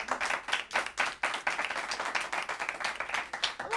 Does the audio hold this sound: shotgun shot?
no